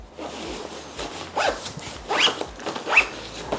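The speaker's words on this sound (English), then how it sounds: "It has very small number 3 YKK zippers." Small YKK number 3 zippers on a 10-liter packing cube being drawn open and shut, a few quick raspy zips in a row, close and fairly quiet with brief pauses between pulls.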